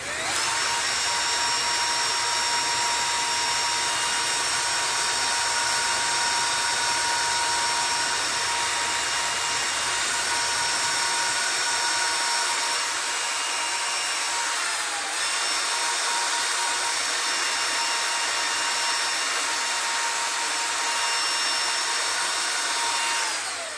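Sandpaper works a spalted beech box spinning on a woodturning lathe, making a continuous high whirring hiss whose low rumble drops away about halfway through, with no talking.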